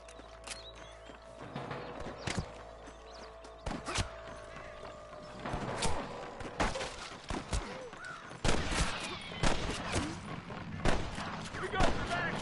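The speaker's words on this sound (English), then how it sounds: "I can hear more gunshots." Scattered gunfire from a Western shootout in the video game Red Dead Redemption, with sharp shots at irregular intervals mixed with horse hooves, whinnies and background game sound.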